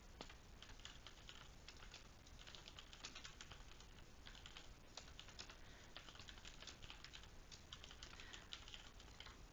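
Steady, fast typing of a message on a computer keyboard, continuous dense clicking of keys throughout, fairly close and alone, with no talk.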